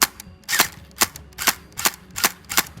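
An AK47-style electric gel blaster fires semi-automatic shots: six or seven sharp, loud snapping cracks at a fairly even pace, close by, with no speech.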